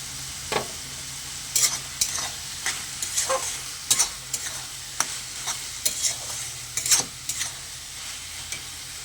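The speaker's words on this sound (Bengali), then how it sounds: "এবারে আমি ভালো করে সব কিছু মিশিয়ে নেবো এবং ভালো করে সব কিছু নেড়ে নেবো।" Red amaranth greens and shrimp stir-fry in a pan over a constant sizzle, with a spatula scraping and clattering against the metal in irregular strokes across the whole stretch.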